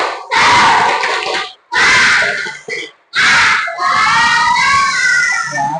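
Schoolchildren in a classroom perform the "tepuk semangat" clapping chant, loud group shouting in three or four bursts separated by short pauses, the last phrase drawn out in a sustained chorus.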